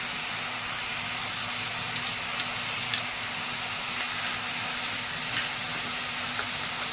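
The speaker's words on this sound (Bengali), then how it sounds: "আমি একেও 2 মিনিট ভেজে নেব। গ্যাস কিন্তু মিডিয়াম ফ্লেমে থাকবে।" Ground tomato paste frying in a pan over a medium gas flame gives a steady, soft hiss and sizzle. It runs evenly throughout with a faint hum underneath and no talking.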